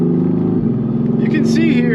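Mercedes-AMG GT R Pro V8 engine held in gear in Sport Plus on a country road, a loud steady drone with rising and wavering pitch near the end, heard from inside the car.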